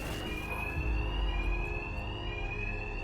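Shrill fire alarm in Batman: Arkham Knight rings without pause, a sustained electronic tone sitting loud over rumbling low-end game noise.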